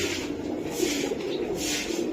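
A checker racing pigeon, a 2023 bird, gives soft low coos against a steady background hiss, close by and fairly quiet, with no voices.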